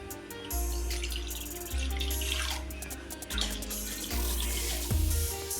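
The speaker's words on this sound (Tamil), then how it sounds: "ஃபஸ்ட்டு அடுப்பில் கடாய் போட்டு ரெண்டு டம்ளர் தண்ணி ஊற்றிக்கலாம்" Water pours steadily from a tumbler into a kadai on the stove while making Maggi noodles, running continuously under rhythmic background music.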